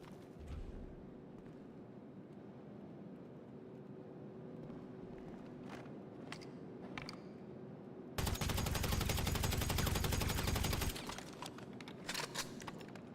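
Gunfire in the open-world game GTA Online: a few isolated shots over a steady background hum, then a loud sustained burst of rapid automatic fire lasting about three seconds, followed by more scattered shots.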